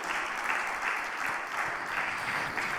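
Congregation at a church service clapping together, steady full applause with slight rhythmic swells throughout.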